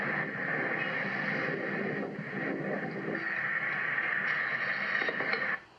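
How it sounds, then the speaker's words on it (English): A car is filled at a gas station pump, with a steady rushing, hissing flow that holds evenly for several seconds and then cuts off abruptly near the end. "filling my car with gas, which is kind of sounds like this"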